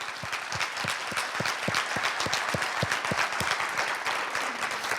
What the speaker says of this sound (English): Can we give these panelists a round of applause?